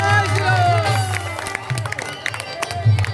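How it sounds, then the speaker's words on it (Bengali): Crowd at a political rally clapping and murmuring, a loose mass of applause with babble and scattered cheers under a speaker's voice. "তাদের জন্য জোরে জোরে করতালি, জোরে জোরে করতালি"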